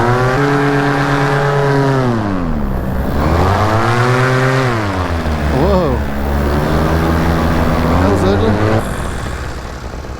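A Vittorazi Moster 185 paramotor engine runs loud and close at high idle, its droning tone rising and falling in pitch a few times before easing off near the end.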